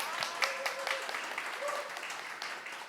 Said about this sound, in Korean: 마음껏 박수 쳐주셔도 됩니다.